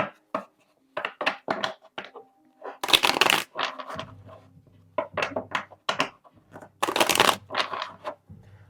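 Tarot cards are shuffled in quick bursts of riffling and snapping, several rounds separated by short pauses, close and crisp with no talking.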